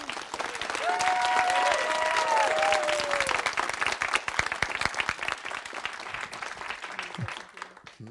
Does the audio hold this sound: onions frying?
no